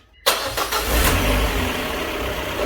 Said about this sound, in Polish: Zakręcamy korek i teraz uruchamiam silnik.